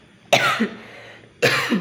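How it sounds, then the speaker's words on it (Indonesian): Two sharp, close coughs, spaced about a second apart, with quiet in between. "Aduh, maaf ya, lagi batuk."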